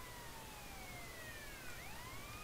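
A fire truck siren in GTA San Andreas wails faintly with a steady rising and falling tone, heard alone at low level without speech.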